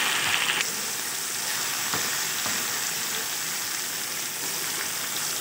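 Garlic ginger paste frying with browned onions in a pan, a steady close sizzle and hiss that holds evenly throughout with occasional soft stirring clicks.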